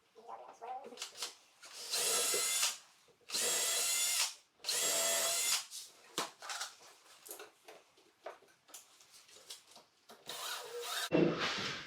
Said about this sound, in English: Got the concrete anchors, tap cons. We'll just fasten it down.